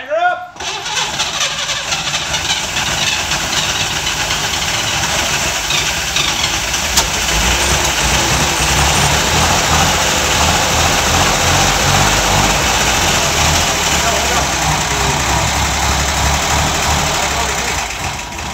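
A Chevrolet Corvair engine cranks on a cold start, a loud steady churning drone that runs continuously for the whole stretch, with people talking over it near the car.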